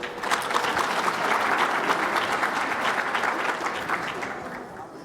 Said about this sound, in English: Please give them an introductory round of applause to welcome them